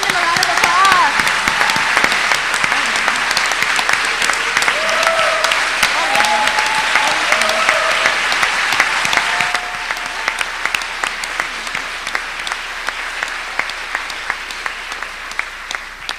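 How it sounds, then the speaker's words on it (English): An audience applauds student volunteers at a university event, sustained clapping with cheering voices mixed in, thinning and quieter in the second half. "Please join me in giving them a round of applause."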